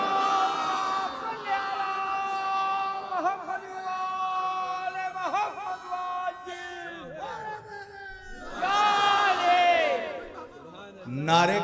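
At a religious gathering in Allahabad, a preacher's single amplified voice gives way to a crowd chanting salawat in unison, a loud swell of many voices near the end.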